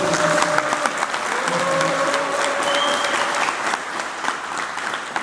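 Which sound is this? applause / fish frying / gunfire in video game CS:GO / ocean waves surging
applause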